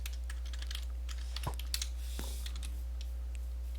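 Typing on a computer keyboard while coding in Minecraft, a quick scatter of faint key clicks with a few louder taps over a steady low hum.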